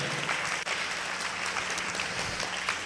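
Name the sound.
congregation clapping loudly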